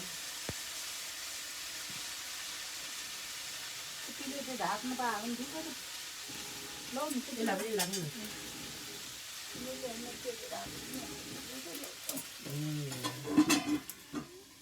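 Grains stir and sizzle in a hot pan with a soft steady hiss, while a person talks intermittently in the middle and near the end.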